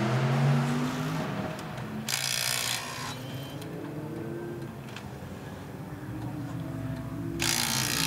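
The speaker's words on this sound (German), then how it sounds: "er macht es zum ersten Mal selbst mit Schlagschrauber" Impact wrench rattling in bursts during a race car tyre change in the pit at the 24 Hours Nürburgring, two short loud buzzing bursts over a steady engine and crowd drone, no talking.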